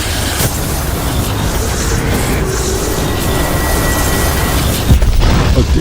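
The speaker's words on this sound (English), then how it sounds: "unleashed a thought bomb" Star Wars dark side thought bomb detonating as a loud, dense cinematic rumble and roar that fills the whole span without letup, with a heavier surge near the end.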